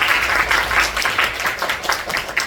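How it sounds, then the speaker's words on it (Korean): An audience in a Tuesday chapel service claps together in sustained, dense applause that stays loud and even throughout, with no voices over it. "박수 한번 할까요?"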